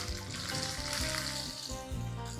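Mustard seeds, curry leaves and Guntur red chilies sizzle and crackle in hot oil for a potato onion sambar tempering, a dense continuous frying hiss with popping bursts close up.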